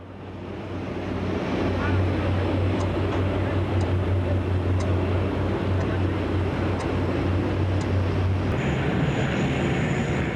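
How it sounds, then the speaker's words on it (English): A Boeing 727 airliner of Iberia taxiing toward the runway, a continuous loud engine drone with a steady low hum and broadband roar that holds level from start to finish. "Iberia Flight 610 begins taxiing toward the runway"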